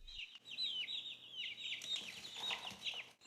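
Young hens kept indoors cluck and chirp in a busy, overlapping chorus of high, quick calls, close and fairly quiet, with a low hum underneath.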